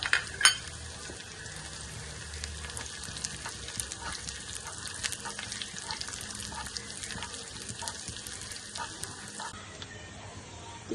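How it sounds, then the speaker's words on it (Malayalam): Urad dal and dried red chillies frying in hot oil for a Kerala jackfruit erissery, a steady broadband crackle and sizzle lasting throughout, with a sharper pop near the start and no talking. "കുറച്ച് ഉഴുന്ന് പരിപ്പ് ഇട്ട് കൊടുക്കാം. ശകലം വറ്റൽമുളക് ഇട്ട് കൊടുക്കാം."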